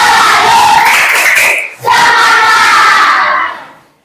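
A classroom of pupils shouts a loud group cheer in unison during an Islamic religious education lesson, with crowd voices filling the room, a brief pause midway, then a second burst that fades out at the end.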